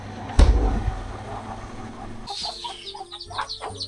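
A chicken clucks close by in a series of short, choppy calls after a brief low thump, fairly quiet against a soft background.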